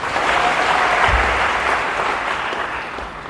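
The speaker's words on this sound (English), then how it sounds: "Give Malema a big clap." A university audience in Kenya claps together in sustained applause for Julius Malema that slowly fades toward the end.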